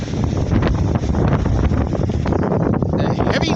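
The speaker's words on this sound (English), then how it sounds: "Sure is windy out here." Heavy wind blows outdoors in constant, loud gusty roaring and buffeting against the microphone, filling the whole stretch with rough turbulence.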